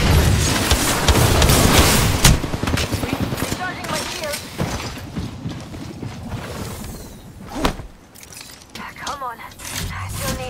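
Apex Legends trios firefight: rapid bursts of gunfire crackle almost continuously near and loud, mixed with game effects, while a player talks over the shooting.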